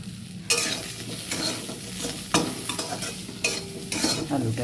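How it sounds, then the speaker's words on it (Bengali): Cabbage and potato fry in a pan while being stirred, with repeated scraping strokes of the spoon over a loud, continuous, nearby sizzle, and no voices. "আলুটাকে ভালো করে ভাজবো।"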